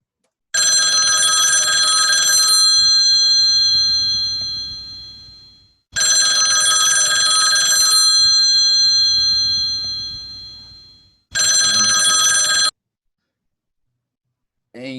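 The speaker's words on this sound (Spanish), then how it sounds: "Suena el teléfono." A household telephone bell rings in three bright metallic bursts, two long rings of about five seconds and a shorter third, separated by brief pauses, loud and close with no talking.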